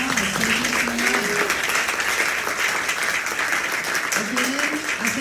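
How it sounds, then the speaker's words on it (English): A crowd applauds a panel at a Dallas College discussion on AI in education, steady sustained clapping throughout while a voice speaks over it. "Let's give them a round of applause."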